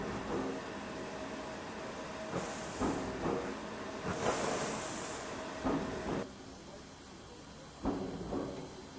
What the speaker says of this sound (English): Steam locomotive on the back of our train.